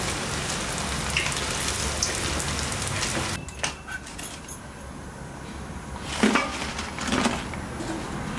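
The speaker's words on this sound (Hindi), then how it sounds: "इसी तरह से बाकी सारे रोल को हम फ्राई कर लेते हैं।" Keema spring rolls deep frying in hot oil give a steady, dense crackling sizzle that drops back after a few seconds, then rises again in short bubbling bursts, close and continuous with no talking.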